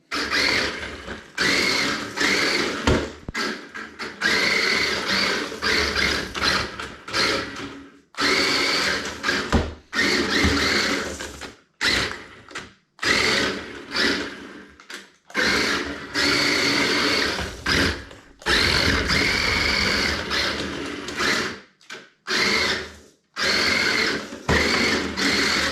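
A small electric motor in a ready-to-run RC drift van whines in rapid bursts, revving up and cutting off repeatedly with brief silent gaps, close and fairly loud.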